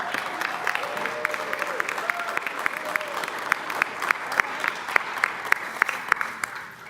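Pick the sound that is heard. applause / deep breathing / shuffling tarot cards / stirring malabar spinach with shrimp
applause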